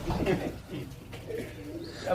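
Soft, low pigeon coos sit under nearby talking, fairly quiet and muffled.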